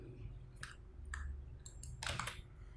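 Wireless computer mouse clicking at a desk, a few sharp, close clicks spaced irregularly, then a quick double click, over a low steady hum.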